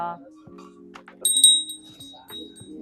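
A small puja bell gives a bright ring with a sustained ringing tone, heard close in a grocery store in America while a person talks nearby.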